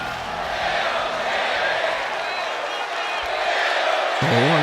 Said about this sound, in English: as the crowd do seem pleased to see him.